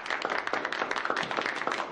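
Quick, fairly faint applause from a small group at a graduation ceremony, with dense overlapping claps that keep a steady patter for the whole short stretch.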